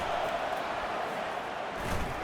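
A steady, dense roar of a stadium crowd during an EA Sports College Football 25 game, with Penn State Nittany Lions play continuing without pause and no clear voices on top.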